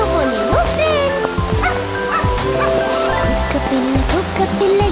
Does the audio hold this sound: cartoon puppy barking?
yes